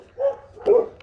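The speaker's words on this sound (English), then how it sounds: "That's all the dogs in the street talking about it." Two short barks from a dog out in a residential street, one after the other, fairly near and clear against a quiet background.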